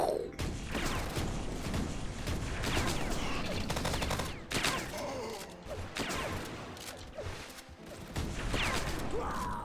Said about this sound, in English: the freaking explosion sound of those mini rockets just sound like thunder